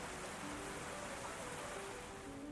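Heavy rain pours in the video game Ys X, a thick, unbroken hiss of water held at a steady, moderate level throughout.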